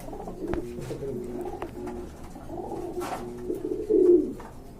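Several pigeons for sale coo nearby in soft, rolling, repeated calls, overlapping one another, with a louder burst of cooing near the end.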